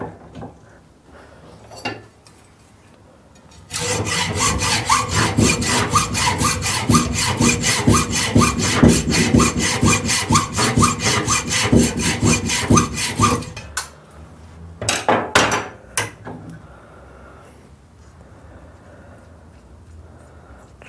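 A hand saw cuts through threaded steel stud lengths for a 7.25-inch gauge steam locomotive's valve chest and cylinder covers, fast steady rasping strokes for about ten seconds, then a few short final strokes, close and loud.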